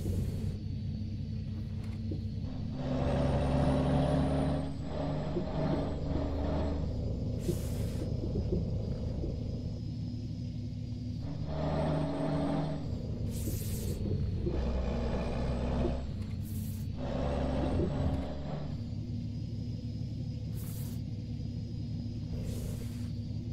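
A Mercedes-Benz 11-13 truck descends a mountain road in a driving simulator game, a low engine rumble that swells and eases repeatedly, with several short sharp hissing bursts scattered throughout and no talk.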